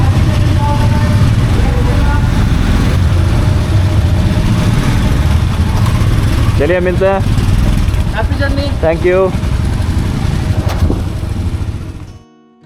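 Motorcycles idle and rumble steadily at the start of a group bike ride out of Shimla toward Sangla. The continuous low engine drone runs loud throughout while people exchange brief farewells, and it fades out at the end.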